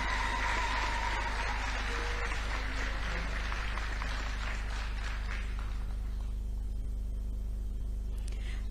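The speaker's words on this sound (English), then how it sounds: "A round of applause," Audience applause at a ceremony, a dense burst of clapping that runs strong for about six seconds before fading away, with a low steady hum beneath it.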